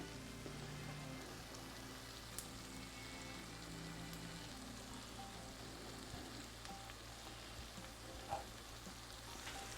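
Flour cooking in a pan for a darker roux, a faint, steady sizzle and crackle with occasional scraping, close and unbroken, with no talk over it.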